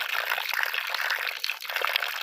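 Water from a DIY wash plant runs out through sand and gravel in a steady, close, hissing trickle and splash that continues throughout without a break.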